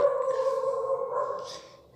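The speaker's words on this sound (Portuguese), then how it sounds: "desculpa o latido do cachorro aí," A dog gives one drawn-out bark or howl nearby, a sustained tonal cry lasting about two seconds that trails off. There is no speech.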